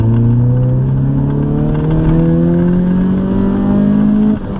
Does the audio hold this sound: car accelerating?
yes